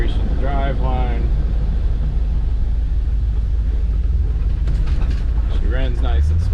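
A 1992 Land Rover Defender 110 station wagon with a V8, low original miles, driving smoothly with a steady low rumble and road noise; a voice talks briefly over it.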